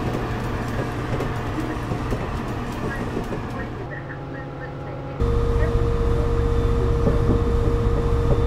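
A passenger train on the Pacific Surfliner route between San Diego and Los Angeles in Train Simulator 2018 runs with a steady rumbling drone, its engine tone shifting partway through and growing louder and more continuous.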